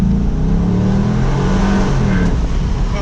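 A 500HP C5 Corvette's engine revs hard and loud close by, its deep exhaust roar rising and falling steadily over three seconds with no talking.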